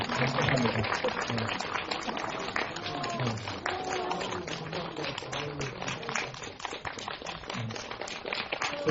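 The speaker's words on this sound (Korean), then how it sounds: "박수 한번." An audience at a Korean indie film talk with the cast and director claps steadily throughout, a busy, moderately close patter of applause with murmuring voices mixed in.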